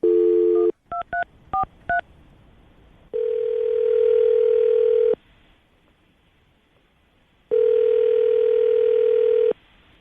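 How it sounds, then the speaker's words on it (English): Telephone call being placed: a steady dial tone, a quick run of touch-tone keypad beeps, then two long ringback tones separated by a quiet gap, loud and clear. "we're going to call him right now, see if we can get him on the phone"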